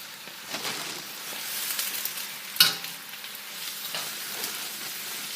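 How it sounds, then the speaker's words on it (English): Spinach is stirred in a cooking pot with garlic, giving a soft steady sizzle with scraping stir sounds and one sharp clink of a utensil midway, without talk. "stirring it, and I'm gonna reduce my heat as I'm getting my other spinach in here"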